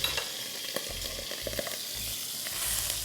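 Chicken returned to a karahi pan for Balochi karahi fries with a steady close sizzle, crackling spikes and stirring scrapes throughout, no voices.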